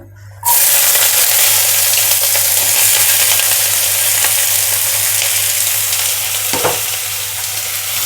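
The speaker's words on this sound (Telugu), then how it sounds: "ఇప్పుడు మనం ఉల్లిపాయలు పచ్చిమిరపకాయలు సన్నగా కట్ చేసుకున్నాను ఇందులో వేసుకుందాం ఆయిల్లో" Sliced onions and green chillies dropped into hot oil in a pan, bursting into a sudden loud, dense sizzle that holds steady throughout, with one brief clack partway through.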